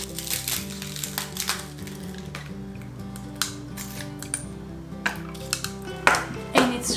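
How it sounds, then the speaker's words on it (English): Ice cubes dropped into a jug of ayran, a salted yogurt drink, giving several sharp clinks and rattles against the container over a low steady hum, with a louder cluster of knocks near the end. "Add some ice cubes."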